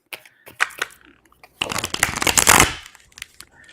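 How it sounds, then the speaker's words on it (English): Tarot cards being shuffled in quick riffling bursts, a few short flicks followed by a longer, louder rush of cards near the middle, close by. "Nikita, I'm being drawn to shuffle quite a bit"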